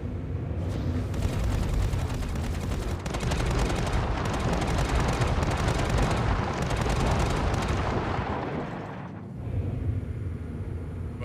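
Spaceship cannons fire continuously on Daymar, the game's desert moon, a loud dense barrage of booming shots with heavy reverberant echo that rolls on for several seconds, pauses briefly, then resumes.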